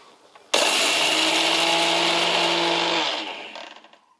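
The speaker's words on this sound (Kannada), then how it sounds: "ನಾ ಮಿಕ್ಸಿ ಜಾರಿಗೆ ಹಾಕಿ ಪೌಡ್ರ್ ಮಾಡ್ಕೋತೀನಿ ನೋಡ್ರಿ." An electric mixer grinder powders roasted flattened rice and roasted gram for chakli. It starts abruptly with a loud, steady high whine, holds for about two and a half seconds, then winds down and rattles to a stop.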